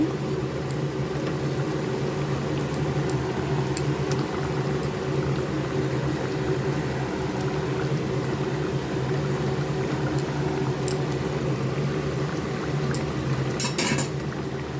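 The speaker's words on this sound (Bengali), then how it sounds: "ঝোল ফুটে উঠেছে ভালো করে। এখন আমি মাছগুলো দিয়ে দিচ্ছি" Curry broth for paabda fish bubbles steadily under a constant hum from a nearby fan or burner. Light clinks of a utensil against the pot come near the end.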